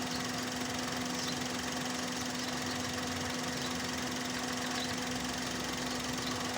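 A misfiring car engine idles steadily during a coil pack diagnosis, its constant hum and rough, knocking rumble running without pause and at even loudness throughout, with no voices.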